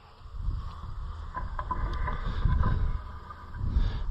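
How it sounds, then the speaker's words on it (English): Wind gusts outdoors on a chilly October day, rumbling and buffeting in low, uneven surges that rise and fall over a few seconds, with no talking. "that wind is kind of chilly when it blows"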